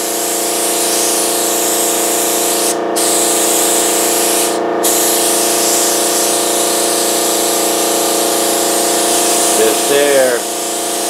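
A spray gun hisses steadily as coating goes onto a mold for a Kevlar fuel tank, a loud continuous spray with a motor-like hum and two brief pauses, ending in a short wavering mechanical sound.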